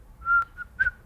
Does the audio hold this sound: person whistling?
yes